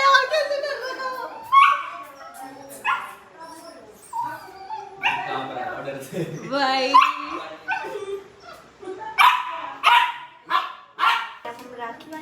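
A frightened pet dog whimpers, yelps and barks in repeated bursts, close by and loud, while people talk over and between its cries.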